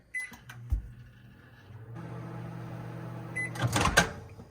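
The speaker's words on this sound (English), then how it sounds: "In the microwave to soften." A microwave oven runs steadily with a low hum, softening two sticks of butter in a home kitchen, ending in a louder clatter of the door or turntable.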